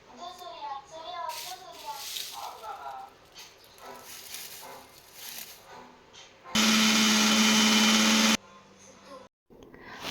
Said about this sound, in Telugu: అప్పుడు మునగాకుని కొంచెం వేసుకుంటూ మిక్సీ చేసుకుందాము.